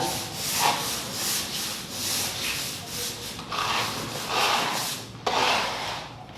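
Repeated rough rubbing strokes of sandpaper on a surface, close and fairly loud, in an uneven back-and-forth rhythm.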